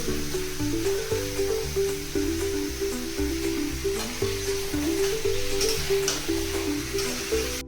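Chicken leg pieces and potatoes fry dhaba style in a pan, a steady sizzling hiss running continuously beneath loud rhythmic background music.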